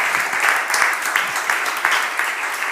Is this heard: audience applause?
yes